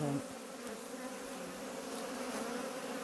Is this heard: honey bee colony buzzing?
yes